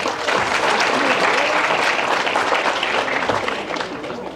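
A dense crowd applauds at a high school athletic banquet after all-district baseball honors, steady and loud throughout before easing slightly near the end.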